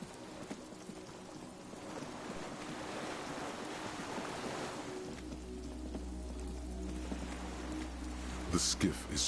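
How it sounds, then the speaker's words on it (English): Waves lap gently against a skiff moored by a dock in the Disco Elysium video game, a steady soft wash of water. Partway through, a low hum comes in, and a few brief clicks sound near the end. "The skiff is swaying on the waves by the dock."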